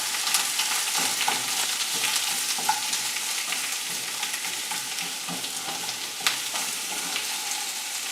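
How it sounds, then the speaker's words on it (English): Onions cooking in a hot skillet give off a dense, continuous sizzle with occasional stirring clicks, close and fairly loud, with no voices. "our skillet should be hot enough to add our onions to now"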